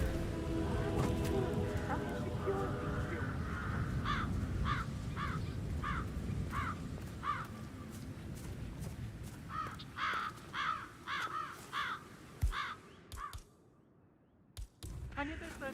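Crows caw in the Hitman 3 video game, a series of evenly spaced harsh calls repeating at a steady rhythm, then a faster irregular burst, set over a low ambient background with faint muffled voices.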